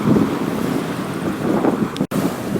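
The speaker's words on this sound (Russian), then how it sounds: "Ветерок дует, не очень сильный." Light wind blowing on a beach at Lyubimovka, north side of Sevastopol, in August: a steady, loud rush of wind buffeting the microphone over the wash of surf, with no talk.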